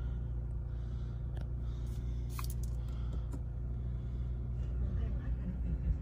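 A 2020 Toyota Camry XSE with a V6 engine runs steadily, giving a continuous low rumble from start to finish with only small swells, and faint movement noises over it.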